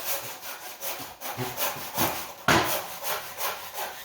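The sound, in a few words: sawing through a wood cross section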